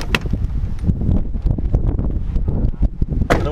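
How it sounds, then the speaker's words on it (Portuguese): Strong outdoor wind buffets a microphone near a skateboarder, a loud, rough rumble that keeps swelling and dropping in gusts, with nobody talking. "Foi mal pelo vento aí,"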